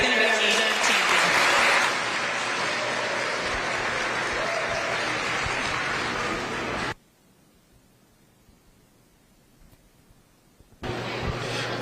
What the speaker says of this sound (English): let's give him a big round of applause because he's going to be our reserve champion